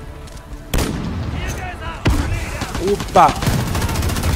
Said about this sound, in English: I'm playing with the MG34